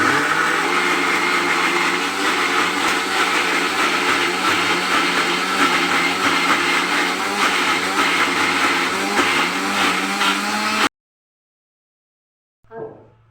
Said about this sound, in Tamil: மிக்ஸியில் நல்லா அரைச்சாச்சு.